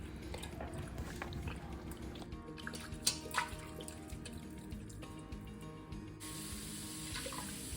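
Water poured into a whisked apple cider vinegar brine for pickling cucumbers, heard as a steady splashing trickle close by with a few sharper drips and clinks partway through, and no talking.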